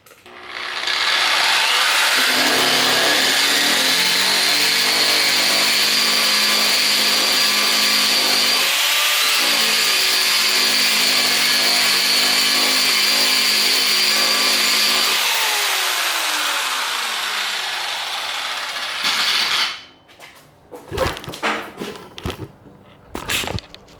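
A rust removal power tool runs at its highest speed on a rusted steel tube, giving a loud continuous grinding whine for about twenty seconds, then stopping and leaving a few scraping clunks.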